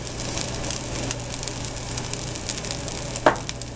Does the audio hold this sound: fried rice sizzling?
yes